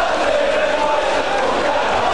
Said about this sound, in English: The Ayrton Park crowd revelling in the return of First Division football here this season.